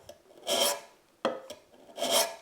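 A hand plane takes short shavings off the end of a workbench leg on a three-leg workbench, three crisp rasping strokes, two longer and one sharp short one, close and clear with pauses between.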